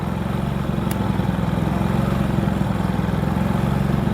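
A Loncin LC 4500i inverter generator runs steadily at close range, its engine hum speeding up as an electric kettle loads it out of economy mode, a continuous low drone with no talk over it.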